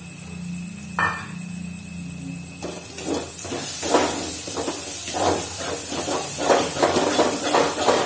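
Lentils fry in a pan with garam masala, turmeric and other spices for a kachori filling, giving a steady sizzling hiss with bursts of crackle and stirring that grows brighter partway through.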